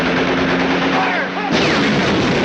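Gunfire crackles through a 1951 World War II battle scene around a tank, a dense continuous barrage of shots and blasts that stays loud throughout, with shouted voices briefly cutting through.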